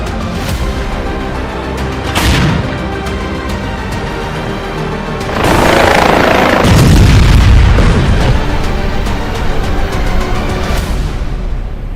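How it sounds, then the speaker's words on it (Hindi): Heavy bomb blasts from the Russia-Ukraine war roar as a loud, continuous low rumble, with a bigger booming surge midway, dense and sustained throughout. "पुतिन बम की बौछार कर रहे हैं तो ट्रंप अल्टीमेटम दे रहे हैं।"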